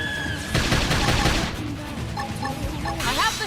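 Gunfire in Xenoblade Chronicles X, a thick rattling fusillade of rapid shots that fades into quieter scattered pops and game effects, then swells again near the end.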